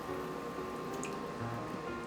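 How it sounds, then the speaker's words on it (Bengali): Water drains and drips steadily from squeezed grated taro, a soft continuous trickle with a few faint drips over a low background hiss. "এখন এটাকে আরেকটু চেপে পানিটাকে ভালোভাবে ঝরিয়ে আমি একটা প্লেটে তুলে নিব"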